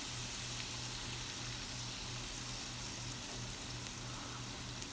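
Onions frying in hot oil in a pan, a steady, even sizzle with fine crackling throughout and a faint low hum beneath, no voices.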